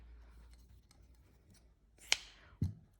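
Scissors make one crisp snip through yarn while a heart-shaped velvet wreath is being finished, followed by a soft thud in an otherwise quiet room.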